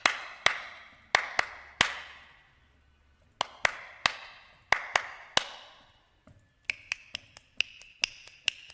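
A pair of hands claps in irregular bursts, sharp close slaps spaced apart with brief reverberant tails, then a quicker run of lighter, crisper claps near the end.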